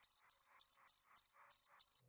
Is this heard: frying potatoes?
no